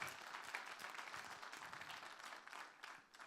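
Applause from a conference audience at a world policy gathering in Monaco, a dense, steady wash of many hands clapping at a distance, tapering slightly at the end.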